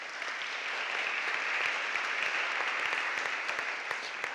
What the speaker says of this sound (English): a round of applause for him as a panelist